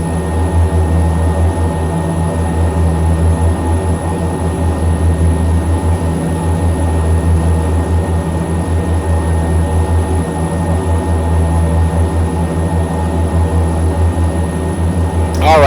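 Inside the passenger cabin of a simulated Saab 340 turboprop in X-Plane 11, a loud, steady engine drone and propeller hum with a deep tonal throb fills the space continuously, unchanging and close.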